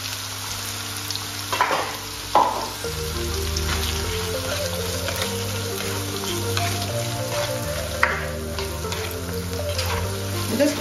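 Food frying in a pan while alfredo pasta is being made, a steady close sizzle with a few stirring clatters and a brief murmured voice.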